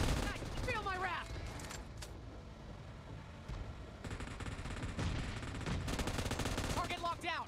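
Sustained M249 machine gun bursts in PUBG Mobile ring out in a dense, continuous volley, with game voice announcements briefly heard at the start and end.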